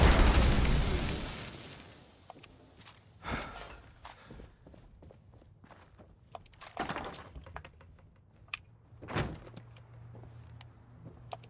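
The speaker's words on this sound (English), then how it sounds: "Homie was shooting a missile launcher" A missile launcher fires indoors in the video game Fallout 76, a loud blast at the start decaying over a couple of seconds, followed by quieter footsteps and scattered thuds.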